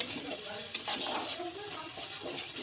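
Water poured into frying masala paste in a pan, giving a soft splash and bubbling hiss with a few light clinks, close and fairly quiet, with a faint voice in the background.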